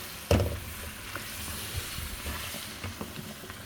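Boiled lentils fry in masala in a pan, giving a soft, steady sizzle with a sharp clatter near the start and a few light stirring knocks after it, all close by and without talk.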